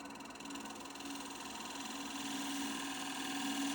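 A wood lathe turns a roughed-out bowl from a log while a freshly sharpened tool takes thin passes, a soft steady hum with a fine rhythmic flutter that swells slightly toward the end.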